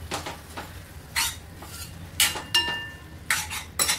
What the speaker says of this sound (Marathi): टाकून घेऊया। मस्त मिक्स करूया।